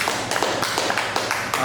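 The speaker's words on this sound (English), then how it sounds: "Just give a round of applause for the kids one more time" A small audience applauds for the kids inside Broadway Cafe & Bakery: dense, fairly close hand clapping with rhythmic, tappy bursts, steady throughout and mostly free of talk.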